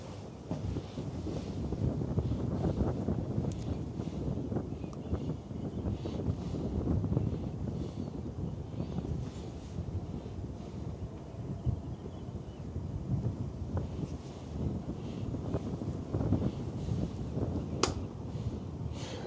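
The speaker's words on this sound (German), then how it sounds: "jetzt haben wir uns gedreht und natürlich in den Wind" Wind roaring across the deck of a cruise ship sailing out of Åndalsnes through the Romsdalsfjord in Norway, a steady, gusting rush with buffeting bursts on the microphone and a faint wash of water beneath, no talking.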